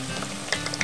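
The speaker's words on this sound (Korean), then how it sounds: "가지 튀기는 쉽지." Eggplant fries in hot oil in a rural home kitchen, giving a steady, close sizzle with scattered sharp pops and crackles.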